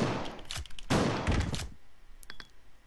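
Shotgun blasts from Resident Evil Code Veronica X: two or three heavy booming shots in quick succession, followed by a fainter mechanical reload click, with no talking.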